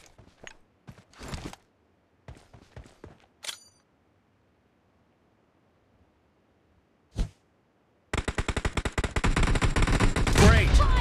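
Gunfire in PUBG Mobile team deathmatch: a few scattered single shots and short clicks with silent gaps, then a sustained rapid automatic burst that grows louder and continues to the end.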